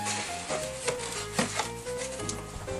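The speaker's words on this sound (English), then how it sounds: "let me get the lid off the box and let's see what's inside" Lid being pulled off a cardboard box holding a Gobot Leader 1 model kit, a run of close scraping and rubbing with a few sharp knocks and taps, fairly quiet and with no talking.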